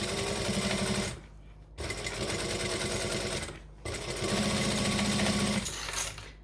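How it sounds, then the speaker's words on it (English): A sewing machine stitches and back-stitches fabric in three close, loud bursts of rapid mechanical chatter, separated by two short pauses. "we're going to stitch and back stitch"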